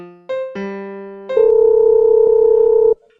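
A telephone call is placed: a few short tones step in pitch, then a steady, loud, continuous tone holds for about a second and a half before cutting off abruptly. No voices are heard.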